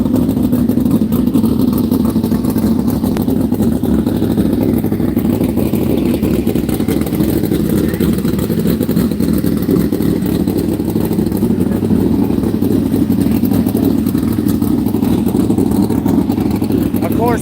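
Sprint cars at Texas Motor Speedway, 410 and 305 classes, hot lapping: a loud, continuous engine roar that holds steady throughout, with commentators talking over it.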